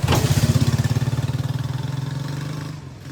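A motorcycle engine runs close by on a bridge, a steady pulsing drone that fades gradually as the bike moves away over about three seconds.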